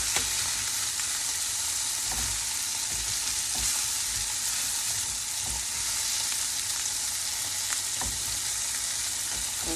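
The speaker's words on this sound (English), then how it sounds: "those veggies and bacon are cooking down nicely" Bacon and vegetables for a frittata fry in a pan with a constant close sizzle, a bright crackling hiss that holds steady, with a few faint knocks of the pan, and no voices.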